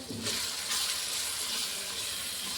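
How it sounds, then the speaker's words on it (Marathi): Water poured into a cooking pan of spiced vegetable curry with long green chillies, red chilli, coriander powder, turmeric and salt, a steady close splashing hiss that runs unbroken for a couple of seconds with no voices. "थोडंसं पाणी पण त्याच्यात टाकलं"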